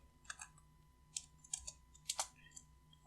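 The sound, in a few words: typing Control plus S on a computer keyboard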